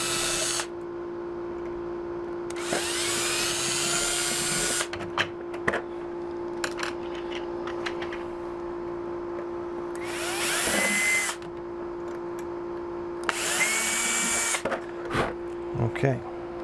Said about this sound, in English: we got a really tiny drill bit, really small, so we're going to drill right in there.